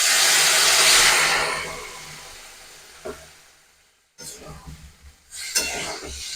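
A small bowl of water poured into sweet pumpkin cooking in a pan without spices sets off a loud burst of sizzling hiss that gradually fades. Brief clinks of a utensil against the pan and softer bubbling follow.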